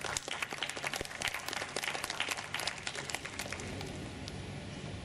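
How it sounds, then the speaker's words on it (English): Dense applause from a large audience at the MAPEX 2014 exhibition event, many overlapping claps forming a steady roar that gradually thins and softens toward the end. "I think you should give yourselves a round of applause."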